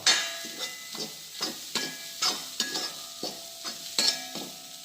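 Green gram and egg thoran being stirred in a pan, a spatula scraping in a steady rhythm of strokes over a light sizzle, close and moderately loud with no talking.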